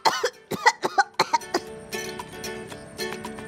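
A burst of harsh, close coughs, about eight in quick succession, then trailing off into a rough, ringing rasp.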